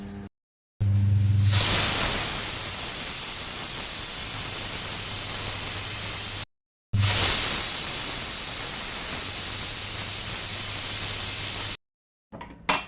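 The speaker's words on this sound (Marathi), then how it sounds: "झाकण लावून 2 शिट्या आपल्याला करायच्या आहेत" A pressure cooker whistles with steady loud hissing of steam escaping under pressure, in two long sustained bursts separated by brief silence, close and alone without talk, while cooking spiced rice pulao.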